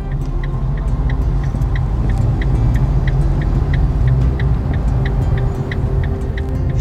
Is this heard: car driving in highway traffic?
yes